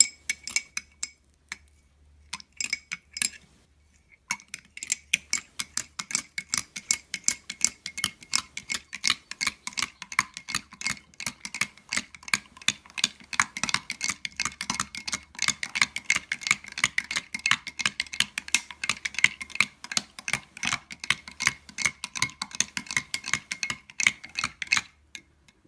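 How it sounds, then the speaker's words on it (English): A spoon stirring a vegan ginger cinnamon French toast mixture in a glass, rapid continuous clinking and tapping against the glass for over twenty seconds after a brief pause, close and bright with no talking. "I'm going to stir it."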